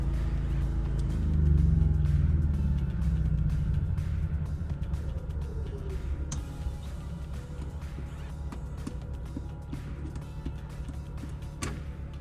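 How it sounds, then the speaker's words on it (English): The onboard generator of a Winnebago Rialta 22RC RV running at idle, a steady low droning hum that is louder at first and then settles into a constant drone, with faint clicks and knocks over it and no talking. "We are not really concern with the generator, but this one happened to have one and it's running."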